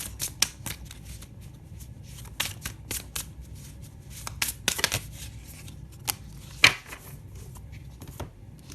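Tarot cards are shuffled and handled close up in rapid, soft riffling and tapping bursts with a few sharper slaps as cards are laid down, and no talking.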